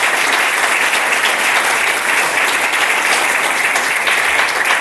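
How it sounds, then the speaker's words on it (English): Loud, dense applause from a conference audience for panel speakers at a church convening on immigration policy, a continuous close roar of many hands clapping with no gaps. "give them a round of applause real quick"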